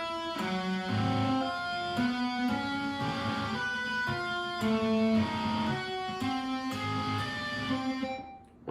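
A slow, sustained guitar riff with ringing, overlapping notes changing at an unhurried, steady pace, played alone without any voices.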